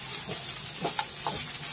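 Okra frying in a pan while being stirred, a low steady sizzle with a few soft scraping strokes close by, over about two seconds.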